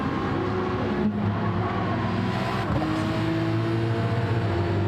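Porsche and Ford DTM race cars roar in a sim racing game, their engines droning with shifting pitch as they pass, a loud continuous motor sound with gear changes.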